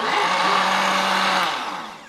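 A brand-new, still-unwashed kitchen blender runs alone with a loud, steady whirring roar that holds evenly before tapering off toward the end.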